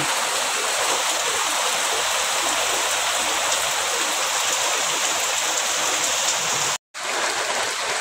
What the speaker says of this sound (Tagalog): medyo tumila na ang ulan. Ayan, mga ambun-ambun na lang po.